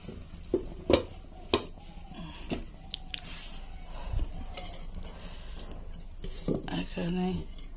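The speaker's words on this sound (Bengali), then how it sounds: "ঢাকনা দিয়ে ঢেকে এখন একটু উঠাইয়ে রাখবো।" A metal lid and cooking pot clatter with several sharp knocks and scrapes of utensils, close and moderately loud, against a steady kitchen background hum.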